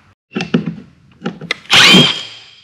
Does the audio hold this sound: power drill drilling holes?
yes